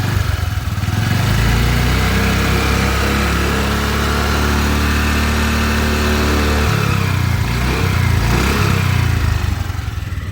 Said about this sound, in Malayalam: സ്മൂത്ത് ആയിട്ടുള്ള ഒരു എഞ്ചിനും സ്മൂത്ത് ആയിട്ടുള്ള ഒരു സ്റ്റാർട്ടിങ്ങുമാണ്